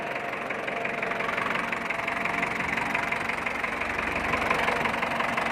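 Diesel engine of a Ford 6600 tractor idling steadily nearby, a constant low rumble with faint knocking, alone without talk.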